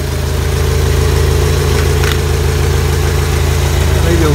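A 1985 Toyota 22R four-cylinder pickup engine idles loudly and close up, a steady throbbing rumble with a faint whine rising near the end and no break in the running sound.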